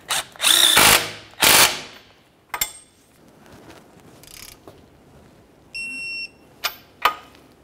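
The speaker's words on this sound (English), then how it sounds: "We'll start this through, start it in position, and then torque it to 72 foot-pounds." Power tool or ratchet driving the control arm mounting bolt on a Nissan Altima: two loud whirring bursts early, then sparse metallic clicks and a short high tonal whine, with quiet gaps between.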